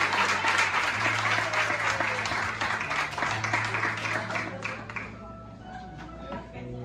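A church congregation applauding together after a prayer, loud dense clapping that thins out and fades after about five seconds, with a low sustained organ or keyboard tone underneath and a few voices.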